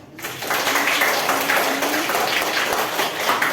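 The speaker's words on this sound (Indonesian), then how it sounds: "Tepuk tangan dulu." A classroom of students applauds together, a dense, steady patter of many hands clapping that starts abruptly and continues evenly throughout at a close, fairly loud level.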